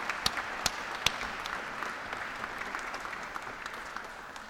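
Audience applause for Molly McGee and her team at a Raytheon event in Rhode Island, a steady wash of many hands clapping with a few sharper nearby claps early on, moderately loud and sustained throughout.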